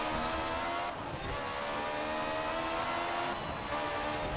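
Porsche engine in Forza Horizon 4, a sustained loud engine drone holding a steady, slightly wavering pitch with brief dips, no talking.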